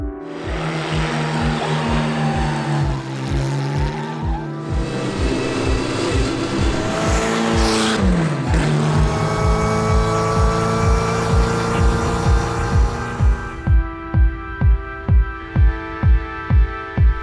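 A loud vintage Bugatti racing car recreation revs and pulls through the gears, a rough rapid rhythmic exhaust throbbing close by, easing to a lumpy idle at the end.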